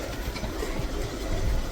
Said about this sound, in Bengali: ট্রেন চলে এসছে আমাদের